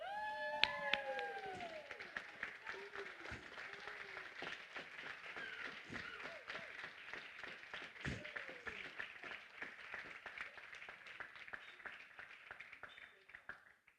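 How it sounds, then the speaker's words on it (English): An audience at a folk dance performance gives the dancers a sustained round of clapping, faint and steady throughout, with a few brief voices and cheers early on. "let's have another round of applause, shall we, for our dancers"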